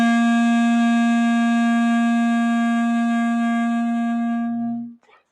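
A clarinet sounds a low C, one steady sustained note held loud and clear for about five seconds before stopping cleanly.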